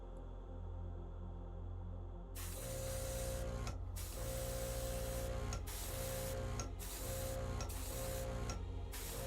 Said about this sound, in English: I'm still new to airbrushing and how to control the airbrush